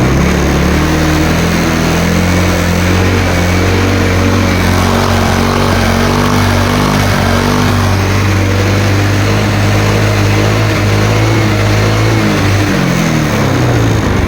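A Honda Mio Sporty scooter engine is held at high RPM during a charging test, a loud, steady buzzing whine that runs unbroken and then drops away near the end as the engine dies.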